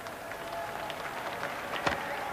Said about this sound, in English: collected a good round of applause for Imran